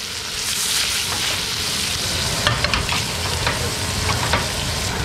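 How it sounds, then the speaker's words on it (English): Food sizzles and crackles in a hot pan, with constant hissing and a few sharper pops now and then. No voices. "Look at the golden brown sizzle."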